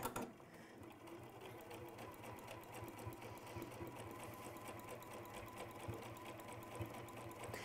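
A sewing machine stitches steadily at an unhurried pace, its rapid mechanical whirr continuous and close throughout, with no talk over it.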